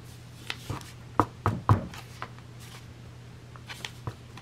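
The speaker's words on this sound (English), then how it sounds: "Knocking them square." A stack of journal pages knocked square against a board: a few soft papery taps and thumps in quick succession, then scattered lighter knocks, close and fairly quiet over a low hum.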